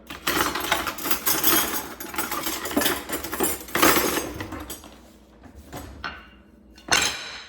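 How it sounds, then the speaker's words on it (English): A ceramic butter dish cracks in half in a kitchen. Clattering knocks and clinks of the pieces against a hard surface come in a busy cluster, followed by a few separate sharp hits after a short lull. "I broke my butter dish, damn it. Right in half."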